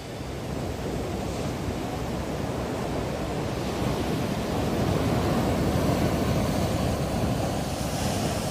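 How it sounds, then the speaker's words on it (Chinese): Sea waves wash against the rocky shore at Shek O, Hong Kong, a loud, constant roar of surf mixed with wind buffeting the microphone. "真係有海有海浪聲就好靚噶啦"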